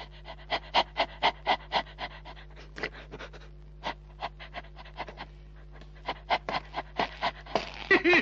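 A dog pants close by in quick rhythmic breaths that come in steady bursts, pause briefly, and then resume over a constant low hum.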